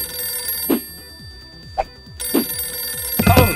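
A telephone bell rings in short bursts in a stop-motion toy scene, three or four separate rings spaced apart over a quiet electronic hum, loud and close.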